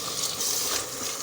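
Minced meat frying in a pan with tomato and spices for a potato and capsicum keema, giving a steady, close, even sizzle that runs through the whole short stretch without pause.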